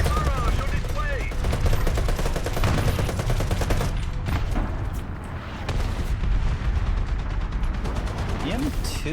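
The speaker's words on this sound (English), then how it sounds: "Artillery barrage on its way!" Artillery barrage in War Thunder: a dense, continuous roll of booming blasts and crackling gunfire, loud and sustained, with a brief dip midway before the barrage resumes, while voices talk over it.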